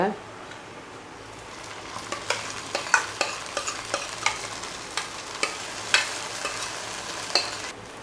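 Roasted rava and coconut with mashed moong dal are sautéed over a low flame for a Chettinad ukkarai sweet. A quiet background sizzle runs under repeated sharp spatula scrapes and taps against the pan.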